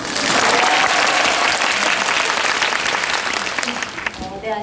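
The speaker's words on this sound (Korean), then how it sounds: "네, 박수 한번 칠까요?" A crowd claps enthusiastically at a live talk event for the film Parasite, loud sustained applause that slowly tapers off toward the end.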